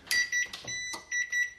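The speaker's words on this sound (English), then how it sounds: "Sorry, alarm." An alarm beeps in a quick run of short, clear electronic tones with brief gaps, fairly close in an otherwise quiet room.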